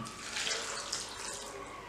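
Water poured into a pot while tomato ketchup is being cooked with vinegar, salt and black pepper, a steady close splashing flow that runs without a break through the short clip.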